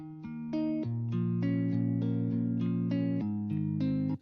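An Electric Sunburst virtual guitar instrument in FL Studio plays clean, synthesized sustained chords and picked notes in a steady pattern, close and moderately loud, with no voices.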